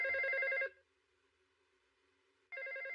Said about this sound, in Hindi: अरे कितनी देर से फोन की घंटी बज रही है।